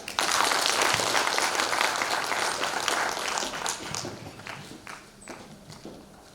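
Audience applause at a mentors and coaches programme closing ceremony, a loud burst of many hands clapping that gradually thins out into scattered claps over about six seconds.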